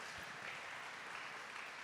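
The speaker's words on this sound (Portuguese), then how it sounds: "uma salva de palmas," An audience claps together in a continuous, faint wash of applause that holds steady throughout, with no talking over it.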